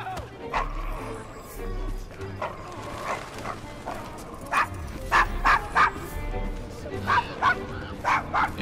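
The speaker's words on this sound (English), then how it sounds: "Is your dog quite all right?" Dog barking in Assassin's Creed Syndicate, set in the Devil's Acre district of Victorian London: a string of sharp, close barks and yips, most dense in the second half, heard over game dialogue and street ambience.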